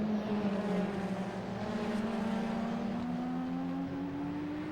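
Race cars at speed on a circuit during a 2021 BARC race, including a McLaren and a Ferrari 458 Challenge, with a loud continuous engine drone whose pitch rises slowly as a car accelerates.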